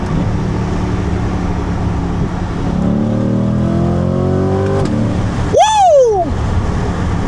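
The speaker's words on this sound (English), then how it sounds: "If you watch, though, I'll downshift." A C8 Corvette sports car engine drones steadily, then drops a gear and roars up in a sharp, loud rev before settling back.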